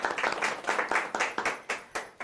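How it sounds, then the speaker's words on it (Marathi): Applause from a small group for the players after a family game on a TV show set, with several distinct bursts of clapping in quick succession, close and fairly loud, and no talking over it. "तुमच्यासाठी एकदा जोरदार टाळ्या."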